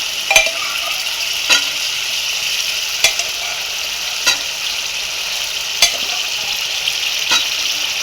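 Vegetarian ghugni fries in oil in a kadai, a steady bright sizzle close by with regular soft knocks of a spoon stirring every second or so.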